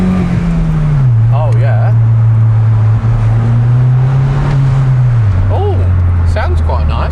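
A salvage-auction Mini needing a lot of repair work idles with a steady low exhaust drone close by, the engine note dipping slightly partway through, while someone speaks briefly over it.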